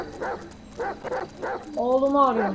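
A dog barks repeatedly in the GTA 5 video game, several short barks in quick succession followed by a drawn-out whine, heard under someone talking over the game.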